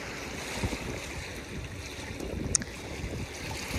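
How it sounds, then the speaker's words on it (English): Big ocean waves break at Avon by the Sea beach on an overcast day, a steady broadband roar of surf with gusts of wind buffeting the microphone and a brief sharp knock partway through. "Oh, big waves."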